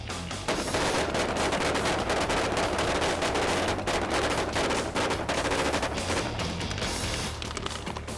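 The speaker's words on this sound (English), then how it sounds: "We're firing on the ground to simulate the bullets ricocheting from their weapons in front of camera." Blank gunfire on a film set, with shots fired at the ground to fake bullets ricocheting in front of the camera for the Breaking Bad finale, comes as loud rapid automatic bursts of many shots, dense and continuous, with no talk.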